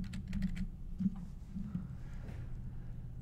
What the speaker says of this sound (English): you can begin typing your text